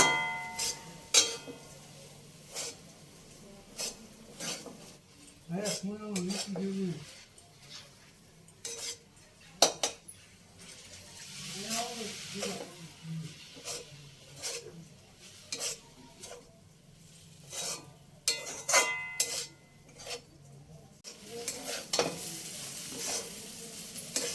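Semolina and potatoes stirred in a frying pan for a spicy suji dish: irregular scraping spoon strokes and light clinks over a soft, steady sizzle, moderately close.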